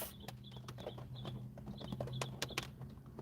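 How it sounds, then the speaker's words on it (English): Bird chirping outdoors in Florida: faint, repeated short high chirps in a loose rhythm, with scattered soft clicks and a low background drone. "I hear a bird chirping."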